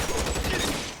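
Gunfire rattles through a gunfight in the video game LA Noire, a quick burst of several shots blurring into a short fusillade, moderately loud and with no talk.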